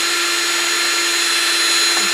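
A brad point drill bit bores a hole into a small turned wooden chickadee ornament, a loud, steady motor whine holding constant throughout without talking.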